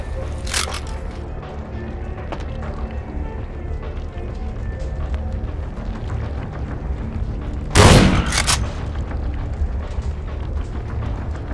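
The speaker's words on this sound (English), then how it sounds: "let's go with the shotgun" A shotgun fires in the video game Vampire: The Masquerade – Bloodlines: a sharp blast early on, then a louder burst of two close shots later, over a low steady game background.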